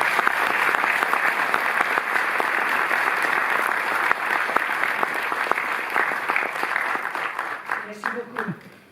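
Sustained audience applause for the Australian ambassador Gillian Bird at a festival opening at the Cinémathèque in Paris, with dense clapping from a large hall that fades out before a voice resumes.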